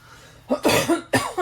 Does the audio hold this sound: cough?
yes